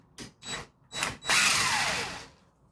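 A power impact wrench works on the brake bolts of a Chevrolet Equinox: three short whirring bursts are followed by a longer, loud, close run whose pitch sinks as it winds down.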